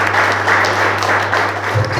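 Applause from a congregation for the Lord during a church service, a dense, steady wash of clapping lasting throughout at moderate volume.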